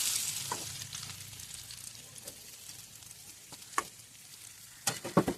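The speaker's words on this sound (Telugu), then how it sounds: "ఇలా ఎగ్స్ అనేవి పక్కకు తీసేసుకున్న తర్వాత అదే ఆయిల్లో ఆనియన్స్ అండ్ పచ్చిమిరపకాయలు కూడా యాడ్ చేసుకోవాలి." Onions and green chillies fry in oil left over from frying eggs, a soft steady sizzle with occasional utensil scrapes and taps, close and quiet, growing busier toward the end.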